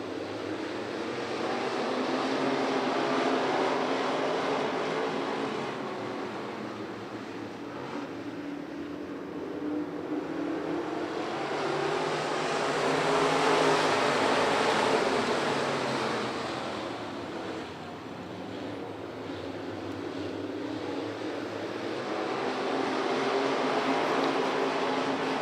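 USRA stock cars racing in a night feature at the Show Me Shootout, a pack of four running close together, their engines making a loud broadband roar that swells and fades as the cars sweep past and circle the track.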